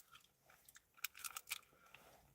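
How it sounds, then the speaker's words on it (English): A person chews food close to the microphone, making soft, quiet crunchy bites and mouth sounds in a short irregular burst. "sorry for chewing"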